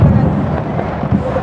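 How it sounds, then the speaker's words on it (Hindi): Firecrackers burst all around during a religious gathering, a dense rumbling crackle of overlapping pops that stays loud and continuous throughout. "अब देखो ये दुनिया भर के पटाखे छूट रहे हैं"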